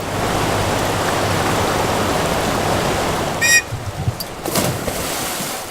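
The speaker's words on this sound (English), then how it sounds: "The Merced River that runs through Yosemite National Park is a mighty force in May." Merced River in Yosemite National Park in spring flood, a steady loud roar of rushing water filling the scene, with a few brief higher clinks and splashes near the end.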